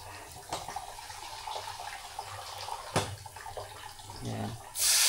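Water is poured into a pan of caramelizing sugar for sweet and sour mayamaya fish, a splashing, bubbling pour under someone speaking, ending in a loud hiss as it hits the hot pan.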